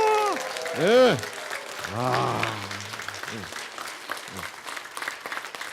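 An audience at a Korean health seminar claps loudly and steadily for several seconds while a voice speaks and sings over the applause.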